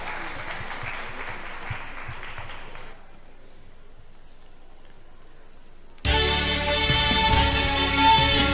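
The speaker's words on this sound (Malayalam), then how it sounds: "ഒരു നല്ല കയ്യടി" Applause rings out at an Onam cultural festival stage show, a dense steady clatter of many hands for a few seconds before fading into near silence, then loud song music with instruments abruptly takes over.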